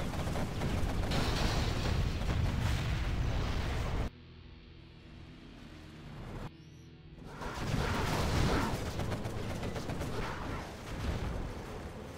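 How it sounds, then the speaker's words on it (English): A particle cannon strike in the strategy game Generals Zero Hour: a loud, sustained roaring blast, then a sudden drop to quieter rumble and a brief lull before another heavy surge of explosive noise. "here comes another particle cannon"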